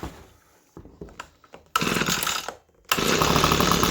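A small engine being pull-started on the first pull while cold: a few faint rattling pulls, then it catches and roars loud, dips briefly, and fires up again into a steady buzzing run.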